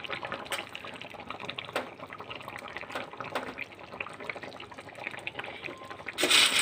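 Fish curry bubbling in a pan with eggplant and lentil dumplings, a steady close simmering hiss with soft popping and liquid gurgles, and a louder burst near the end.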